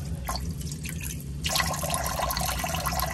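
A shower drain pump filter from a Travato 59G camper van is swished through water, producing close splashing and dripping that grows louder and busier about halfway through, with no talking.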